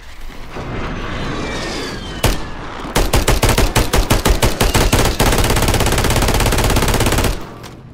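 Holger 26 machine gun in Call of Duty Warzone opening up at close range: a single shot, then a string of rapid, evenly spaced bursts that merge into a sustained, loud roar of automatic fire before cutting off abruptly.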